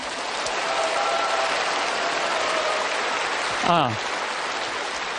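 Steady applause from an indoor audience at a Catholic priest's lecture on happiness in later life, a dense, even wash of clapping that holds throughout, with a brief rising tone near the end.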